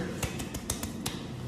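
A handful of distinct, crisp claps spaced irregularly, close to the microphone during a K-pop idol's livestream, with faint room noise between them.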